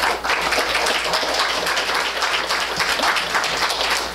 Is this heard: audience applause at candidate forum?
yes